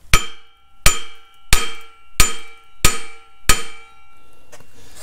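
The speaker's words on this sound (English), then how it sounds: "I'm not afraid to tap the end of the shaft" A hammer strikes the end of a rusty, stuck steering clutch shaft on a Caterpillar D2 six times at an even pace, each blow a sharp metallic clang with a ringing decay, followed by quieter faint clatter.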